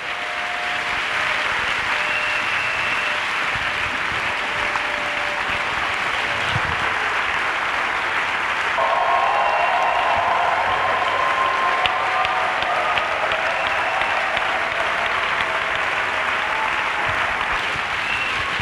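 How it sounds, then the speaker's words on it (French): A church congregation claps steadily and loudly for the whole stretch, a dense continuous wash of applause with faint voices and a brief tone mixed in partway. "Let's clap for Jesus Christ."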